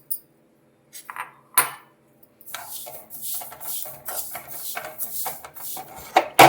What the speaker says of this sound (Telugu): స్టవ్ వెలిగించి మనం నువ్వులు వేయించుకుందాం